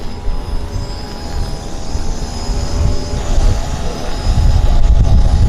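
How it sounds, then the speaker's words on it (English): An Air Canada Jazz CRJ regional jet departing Vancouver airport gives a steady, moderate engine roar with a faint high whine, building slightly toward the end. "Second CRJ is heading to Calgary, flight 7762 Air Canada Jazz"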